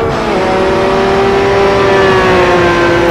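Mini race car in Assetto Corsa holding a loud, steady high-rev engine roar close up, pitch easing slightly down over a few seconds, with no talking.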